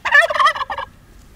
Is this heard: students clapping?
no